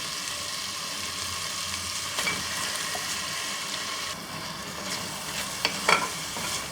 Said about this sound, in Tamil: இப்போ இதை ஒரு 2 நிமிஷம் வதங்கட்டும்.